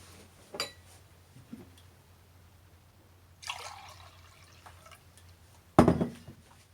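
Water poured into a glass during a muscle-testing session, a few brief splashy bursts and trickles separated by quiet gaps, the last pour loudest and close.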